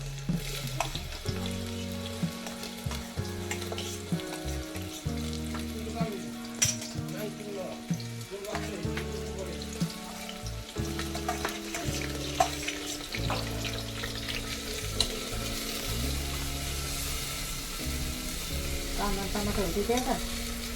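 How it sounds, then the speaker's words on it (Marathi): Garlic and tomato frying in a pan at a home kitchen stove while urad dal is being made, a continuous close sizzle with occasional stirring scrapes and someone talking in Marathi over it. "आता ते तळून देते ना ती थोडं लसण टमाटर"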